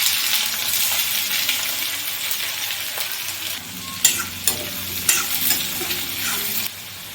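Cumin, asafoetida, chopped garlic and onion frying in a pan, a continuous bright sizzle with occasional stirring scrapes and clinks of a spoon against the pan, close and moderately loud.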